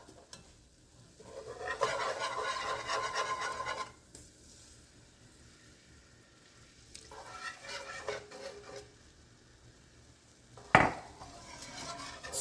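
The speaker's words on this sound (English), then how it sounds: "Stir that in there, or whisk" Whisking or stirring broth into a cream sauce in a pan, with bursts of scraping and clinking against the pan separated by quiet pauses and a sharp clatter near the end.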